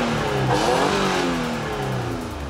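A Mitsubishi Delica Space Gear Super Exceed engine revs loudly, its pitch sweeping up and back down in a smooth roar that then settles toward idle.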